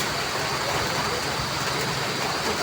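Heavy rain drums steadily on a house roof, a dense unbroken hiss at close range with no pauses.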